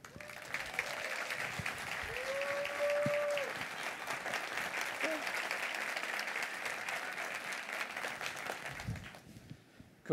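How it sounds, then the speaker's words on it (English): A keynote audience at IMEX America 2015 gives a sustained round of applause, many hands clapping steadily at moderate volume with a few stray voices mixed in, tapering off near the end. "they will give you a wonderful IMEX round of applause"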